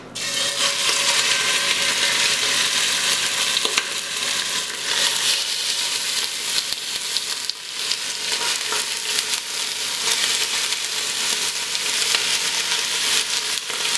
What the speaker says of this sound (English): Now we're going to sear our beef over this high heat for about 5 to 6 minutes until it gets browned on all sides